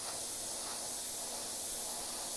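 Airbrush spraying paint onto clayboard, a steady, close hiss of compressed air that holds continuously and evenly without any break, heard alone with no talking.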